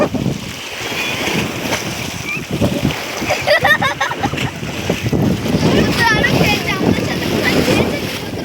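Feet wading through shallow water at Koikhali in the Sundarbans: loud irregular splashes and sloshing over wind buffeting the microphone, with open-air water noise throughout.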